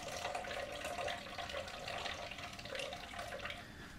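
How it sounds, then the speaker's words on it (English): Almond milk squeezed by hand from a nut milk bag into a bowl, giving a steady close-up trickle and splash of liquid that runs without pause. "So squeeze all the milk out into the bowl."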